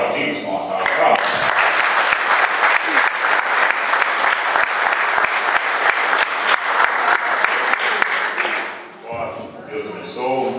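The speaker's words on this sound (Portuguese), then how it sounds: "Vamos aplaudir com uma salva de palmas." A church congregation at a baptism and Holy Communion service in High Wycombe gives a loud, dense round of applause lasting around eight seconds, then fades as a voice resumes.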